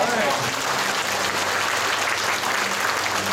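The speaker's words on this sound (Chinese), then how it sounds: "那我们给市长源源不断的掌声" Audience applause for the mayor at a Longtan District sustainable development forum and New Year tea party, steady crowd clapping in a hall with a low hum and some voices mixed underneath.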